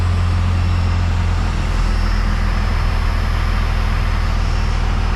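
A first-generation Dodge truck engine, with the vehicle raised off the ground, settles back down in a loud, steady, close rumbling drone that barely changes over the few seconds.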